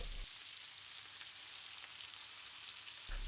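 Turmeric hitting a hot pan for a British Indian restaurant-style balti curry: a steady, fairly quiet hiss of frying oil that runs unbroken, with no talk.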